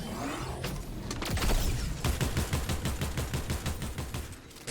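The Cybertron cannon in a video game, firing a rapid burst of sharp repeated shots after an initial heavy blast, loud and close with no talking.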